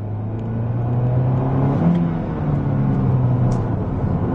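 A car pulls away from a start in second gear, its engine a steady low rumble with a slight rising whir, close by and with no talk.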